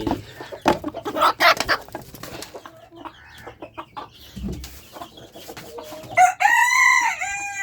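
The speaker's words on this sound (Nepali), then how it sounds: "यहाँ पनि एउटा भाले छ। यहाँ कुन भाले? कालो भाले।" A black rooster crows nearby, loud and drawn out, near the end, after a stretch of sharp clucks and squawks from several chickens in a backyard flock.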